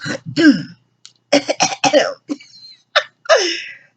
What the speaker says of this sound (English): I know I got to clear my throat all about 100 times before each video is over.